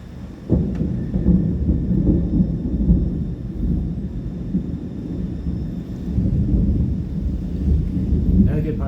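Rolling thunder rumbles over a rainy Bangkok street, a deep, continuous low growl that swells and eases for several seconds, with rain hissing faintly beneath it.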